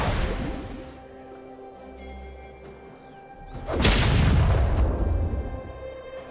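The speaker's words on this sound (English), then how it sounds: "Blue team's turret has been destroyed." A turret is destroyed in League of Legends, a deep booming crash that swells and rolls off over a second or two, set against a quiet game soundscape.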